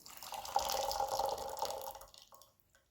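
Water poured over raw pu'er tea leaves for a quick rinse, a steady close splashing and trickling that runs for about two seconds, then stops and leaves near silence.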